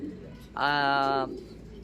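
A single drawn-out harmonic call rises clearly from a quiet background, lasting under a second, the way a pigeon coos close by.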